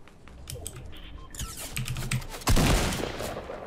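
Fortnite gunfire: quick bursts of clicking, crackling shots, then a louder sustained volley that keeps rattling to the end, mixed with game sounds.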